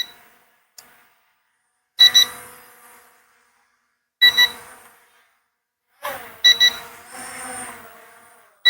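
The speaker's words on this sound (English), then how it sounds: "So it's a warning beep" Beeping from an E88 Pro drone in flight: three separate bursts of sharp, high warning tones spaced about two seconds apart, each double-pulsed, with short gaps of near silence between them.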